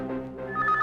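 Telephone ringing in a Hindi film scene, a brief electronic ring with bright tonal pulses lasting under a second.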